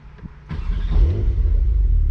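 Porsche 911 Turbo S Brabus flat-six engine starting: a couple of brief starter clicks, then a sudden rising roar that settles into a deep, steady rumbling idle close by.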